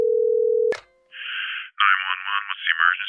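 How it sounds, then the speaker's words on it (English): A steady telephone dial tone for under a second, cut off by a click, followed by synthetic ringing and tonal phone signals while calling the police. "I will call the police."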